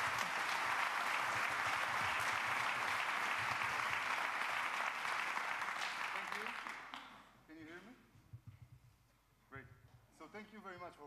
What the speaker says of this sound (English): So give a warm applause to Yaniv.